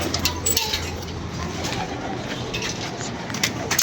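Pigeons coo softly in the background amid faint ambient noise, with low repeated calls over a few seconds.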